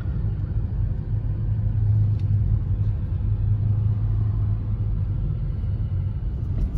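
A car drives through the town of Güneykent in Isparta, Turkey, with a steady low engine and road rumble heard from inside the vehicle for several seconds, no talking.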